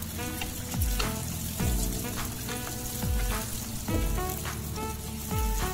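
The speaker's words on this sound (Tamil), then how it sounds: "வெங்காயம் நல்லா பொரிஞ்சிருச்சு." Small onions frying in a pan for a Tamil anchovy curry, a steady close sizzle with periodic stirring scrapes every second or so.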